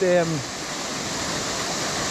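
Davidson's Linn waterfall pours in a constant broadband rush, with a brief voice at the very start before the steady roar of water continues alone.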